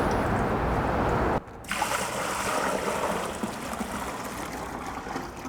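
Water running and splashing steadily as brine bottles are rinsed out and the water dumped into a bucket, a continuous close pour with a brief break partway through.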